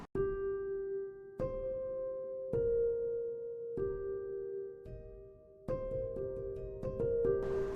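Slow notes from a Native Instruments Una Corda piano ring out one at a time, each sustaining and blending into a spacious added reverb tail, calm and unhurried.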